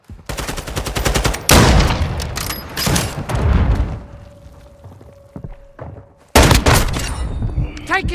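Gunfire in Call of Duty Modern Warfare 2: loud close bursts of rapid automatic fire and heavy booming shots, broken by a brief lull with a faint tone before another sharp volley.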